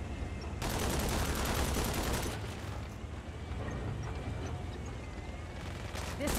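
Saints Row gunfire crackles in a dense, sustained burst of rapid shots that starts abruptly, holds loud for a couple of seconds, then continues more sparsely alongside other game noise.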